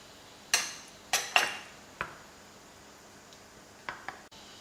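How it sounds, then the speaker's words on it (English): A spoon clinks against a pot while butter is stirred into boiled toffee caramel for a European toffee cake; about seven sharp, sparse metallic taps with quiet gaps between them, close and fairly soft. "To it, I'm going to add the butter and mix very well."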